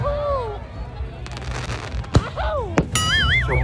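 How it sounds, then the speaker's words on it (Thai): Fireworks bursting at a Loy Krathong festival show in Amnat Charoen, with sharp bangs and crackles rising over crowd noise and a voice talking nearby, plus whistling tones in between. "ชมการแสดงพลุนะครับ"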